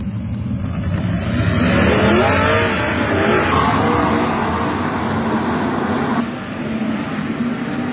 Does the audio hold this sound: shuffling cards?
no